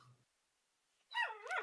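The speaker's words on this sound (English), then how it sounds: "That's my dog in the background." A pet dog barks a couple of times from another room indoors, after a brief low sound and a stretch of silence, the barks fairly faint and distant with a whiny edge.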